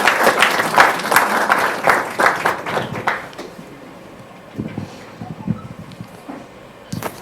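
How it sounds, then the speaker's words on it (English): An audience at a domain industry summit in Africa claps as a speaker comes on stage. The applause is loud and dense at first, then thins into scattered claps, with a few late claps at the end. "Let's give her a clap as she comes."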